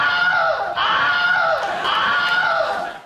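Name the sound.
Wilhelm scream sound effect used in films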